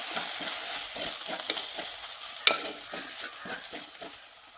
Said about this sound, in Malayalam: ഇതിനി നന്നായി ഇളക്കാം.